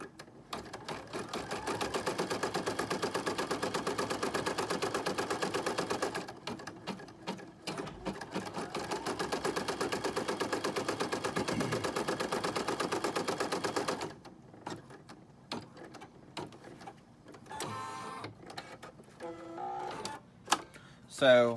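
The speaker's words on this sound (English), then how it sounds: "And now we're going to reinforce the stitching." A sewing machine on hooped fabric reinforces stitching in a long, rapid, steady run for about fourteen seconds, then stops. Brief clicks follow, and a voice speaks near the end.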